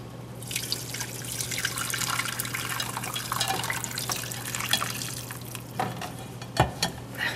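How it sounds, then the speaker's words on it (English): Broth from an eye of round roast cooked in a slow cooker is strained, giving a steady close trickle of liquid with scattered drips and splashes toward the end. "Strain the broth."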